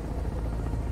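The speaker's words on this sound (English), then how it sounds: "look, there's two helicopters" Helicopter rotor noise from the Sons of the Forest video game, a steady low thudding drone held throughout, fairly loud with no talk over it.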